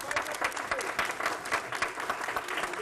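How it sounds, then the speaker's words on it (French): A crowd applauds vigorously at a lively event in Cameroon, steady dense clapping from many hands filling the space without pause. "On applaudit très fort."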